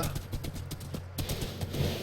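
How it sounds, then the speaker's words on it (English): Horse clip-clopping in the Minecraft video game, a steady run of soft hoofbeats, fairly quiet, with no talking over it. "Look at my horse. My horse is amazing."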